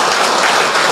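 A church congregation bursts into loud, dense applause, a continuous wash of many clapping hands filling the space for a brief moment.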